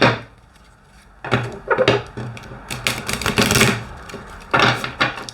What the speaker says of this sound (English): Something just told me to shuffle that again, so I'm just going to do that